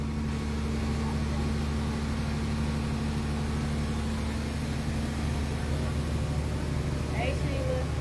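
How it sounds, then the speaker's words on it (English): A loud boat engine runs steadily throughout a day trip on the water, with a constant low drone and hum and no change in pitch, while a voice talks faintly over it. "it's loud. Sorry about that engine."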